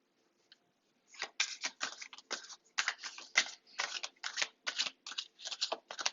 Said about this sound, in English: Kind of weird trying to shuffle.